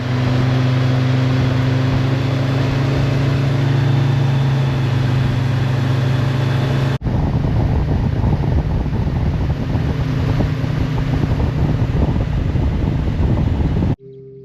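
Outboard boat motor running on Lake Burrendong, a loud, steady droning hum with heavy wind buffeting the microphone, unbroken and close, with no talk.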